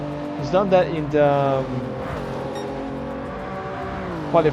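A Toyota Supra race car in a racing video game climbs the hill at Mount Panorama, its engine revving and shifting through gears in rising and falling whines while a commentator talks over it.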